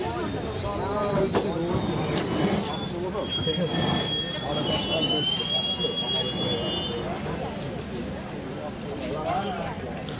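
Shantiniketan Express 12338 from Bolpur to Howrah rolls into Guskara station, a steady rumble with thin wheel squeals and whistling tones, while a person talks over it.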